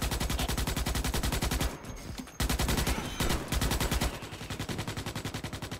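Dense, rapid automatic gunfire in the Starship Troopers: Extermination shooter game, loud and close, with continuous bursts broken by a brief pause near the two-second mark before the firing resumes.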